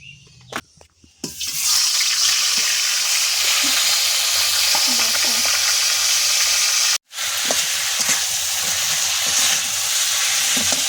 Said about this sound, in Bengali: এখানে মাথাটা কিন্তু ভালো করে এরকমভাবে কষিয়ে নেব।